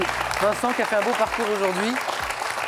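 A television quiz audience claps for contestant Vincent, a broad wash of applause running underneath a man's speech on the studio floor.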